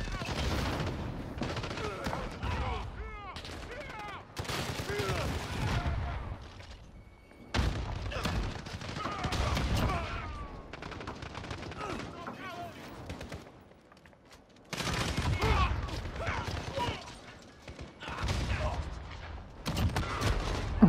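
Bursts of LMG machine gun fire in the video game Call of Duty: Modern Warfare, rattling in dense volleys separated by brief pauses, with a player talking throughout.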